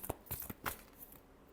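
Tarot cards shuffled by hand in a few soft, brief riffling bursts, quiet and close, with no talking.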